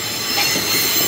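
An MRS Logística freight train rolls past close by, its wheels giving a loud, continuous metallic squeal and rumble that fills the whole short moment.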